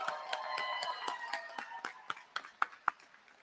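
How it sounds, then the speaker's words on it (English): A few people applaud at a high school graduation ceremony, the claps thinning into sparse, separate hand strikes that ring out one by one until only a couple of sharp claps remain. "let's give our speakers one more round of applause"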